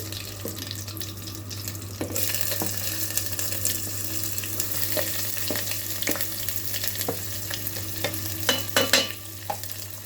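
Onion fries in an electric kettle for rice upma, a soft sizzle under a steady low electrical hum, with intermittent clinks and scrapes of stirring.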